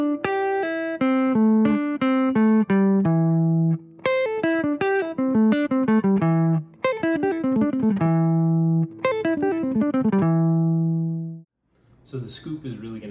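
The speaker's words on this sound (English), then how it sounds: "and then do a scoop upstroke to the second string" Electric guitar picking example played alone with a pull-off and a scoop upstroke into the second string, fast melodic runs of clipped notes with sustained held tones and slight distortion, followed by a brief burst of noise at the end.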